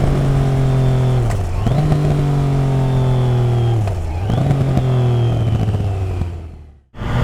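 Triumph Trident 660 motorcycle fitted with a Zard full exhaust revving close up, three strong throttle blips rising and falling in pitch over a loud idle, then cutting off abruptly at the end.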